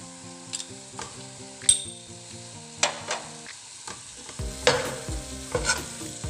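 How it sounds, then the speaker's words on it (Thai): Pork belly simmers with sugar in a pan while being stirred, giving a steady low sizzle with repeated sharp clinks and scrapes of a utensil against the pan. No one speaks. "ดี๋ยวเราจะเคี่ยวหมูกับน้ำตาลให้เข้ากันก่อนนะคะ"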